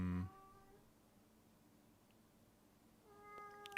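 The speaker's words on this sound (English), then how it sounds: "Hi, kitty. What are you doing? Meow." A cat meows twice, once at the very start and again near the end, with a faint quiet stretch in between and no talking.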